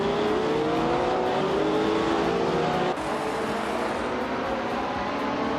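A vintage 1967 Nissan R3802 racing car in a racing game, its engine droning steadily at high revs along with other cars. The pitch climbs gradually, and the sound holds loud and continuous with a brief shift midway.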